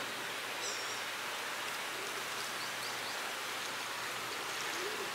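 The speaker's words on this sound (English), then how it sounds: "I have no issues just pouring the syrup in their frame feeder on this one" Sugar syrup pours steadily into a frame feeder inside a working honeybee colony during a honey flow, making a continuous, even splashing rush that runs without pause through the whole stretch.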